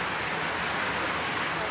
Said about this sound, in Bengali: দেখো কতটা বৃষ্টি